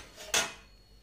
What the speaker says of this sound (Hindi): और अब मुझे करते हैं बर्तन साफ